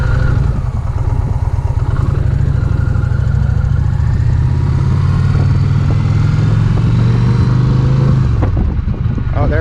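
A 2021 Challenger motorcycle with a shifting fault, stuck in gear, runs loud and close with a steady low rumble and clattering throb that rises slightly in pitch near the end before dropping away.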